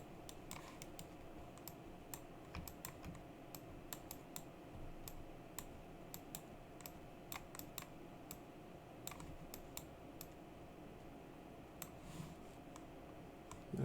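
A computer keyboard is pressed with scattered sharp key clicks, sometimes in quick bursts and sometimes singly, over a faint steady room hum, close but quiet.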